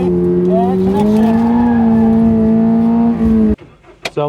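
Stock 2022 Subaru BRZ drifting on a track, its engine holding a loud, steady high-revving drone as the rear slides out, then cutting off abruptly near the end with a few brief noises after.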